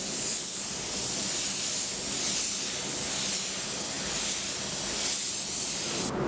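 A 1.6 spray gun at 1 bar pressure lays a coat over polyester filler, a steady close hiss of atomised spray running unbroken for several seconds.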